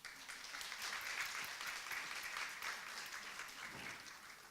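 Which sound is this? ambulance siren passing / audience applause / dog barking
audience applause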